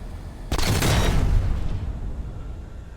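A ship blowing apart in the space game Space Engineers 2: one sudden loud blast that rumbles and hisses, then fades slowly over a couple of seconds, with no talking.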